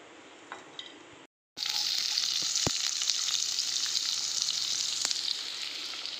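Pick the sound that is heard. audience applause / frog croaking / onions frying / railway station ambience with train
onions frying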